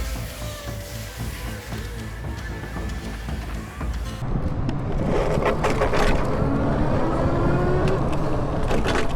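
An Aniioki AQ177 Pro Max dual motor e-bike at full throttle, its steady motor whine rising over rushing wind and road noise that grow louder and rougher midway, a constant close drone throughout.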